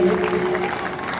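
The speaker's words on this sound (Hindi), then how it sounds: "इस साल भी जोरदार तालियां एक बार नितिन जी के लिए और श्री कुलवंत जी के लिए बंधा दीजिए" Audience applause at an annual function celebration, a brief burst of steady crowd clapping filling the hall.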